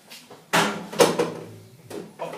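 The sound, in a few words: powder drawer being removed from a Whirlpool washing machine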